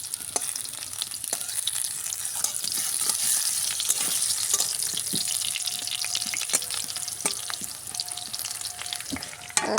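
Potatoes frying in hot oil for a meat dish, a steady close sizzle with occasional pops and spatter running the whole time, with no voices over it.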